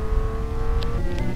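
A car driving along a road in a Roblox game, a steady engine hum with a rising tone and a couple of brief higher blips, continuous over a short stretch with no talking.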